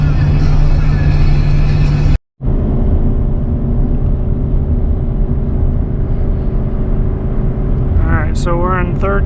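A 24-year-old 8.1-litre gas V8 truck in third gear at 55 mph, climbing Raton Pass with an empty trailer: loud, continuous low cabin engine drone with a brief dropout early on, then a few faint higher sounds near the end.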